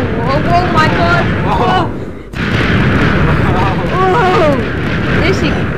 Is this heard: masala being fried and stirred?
no